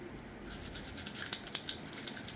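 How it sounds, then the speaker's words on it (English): A toothbrush scrubs the trigger housing of an HK VP9SK pistol, making quick, close, scratchy bristle strokes in short bursts that grow sharper toward the end, with no talking. "you're going to take your toothbrush and you're going to want to get inside here and get in all the crevices"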